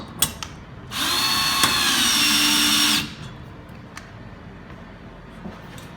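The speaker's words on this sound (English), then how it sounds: "take our 9/16" driver with the torque limiter. And you drive them until the torque limiter stalls." A 9/16" power driver with a torque limiter drives an IMP anchor in one loud whirring run of about two seconds, then cuts out, leaving faint background noise and a few clicks.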